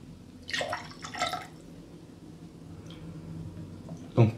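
Pineapple, mango and guava juices are poured into a cocktail glass in soft, brief splashing bursts, followed by faint drips and a closer liquid plop at the end.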